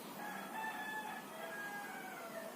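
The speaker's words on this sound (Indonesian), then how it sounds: "di sekitar rumah saya hanya ada ayam." Roosters crow near a house among chickens, several drawn-out calls overlapping at moderate distance against a soft background hiss.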